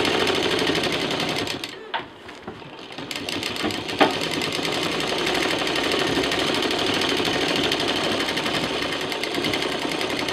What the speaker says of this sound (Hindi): इसको इसके साथ मिला के तीन तरफ से सिल देंगे।